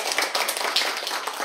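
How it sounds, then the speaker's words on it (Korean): A church congregation claps during a Korean Methodist Sunday service, a brief burst of quick, dense handclaps, close and fairly loud. "우리 박수하겠습니다."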